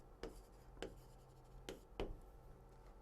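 Marker or chalk writing on a classroom board during a math lecture, four short separate strokes heard close and quiet in an otherwise still room.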